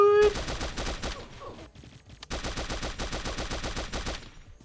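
Rapid automatic gunfire in the mobile shooter Pixel Gun 3D, loud and close, with sustained bursts of repeated shots, a short pause, then another long burst.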